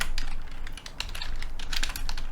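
Rapid keyboard typing, a quick irregular run of light clicks close by, with no talking.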